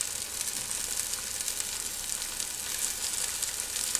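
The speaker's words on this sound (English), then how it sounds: "I just want them to brown and like kind of sear on one side" Food searing and frying in a pan during home cooking, a steady crackling sizzle close by, with no voices.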